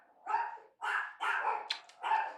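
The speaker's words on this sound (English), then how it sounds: "dogs are barking right now." A dog barks four times in an uneven rhythm, each bark short and sharp with a slight yip, heard clearly against a quiet background.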